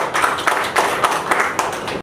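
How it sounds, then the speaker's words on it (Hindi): Audience clapping at an Independence Day celebration, a steady burst of hand claps with uneven rhythm, moderately loud and close, lasting about two seconds without speech. "जोरदार तालियां।"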